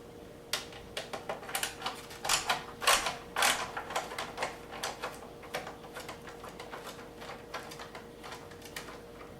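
Small screws being unscrewed from the bottom of a Hyundai Genesis Coupe headlight, a quiet run of dense ratcheting clicks and creaks, busiest in the middle and thinning out toward the end.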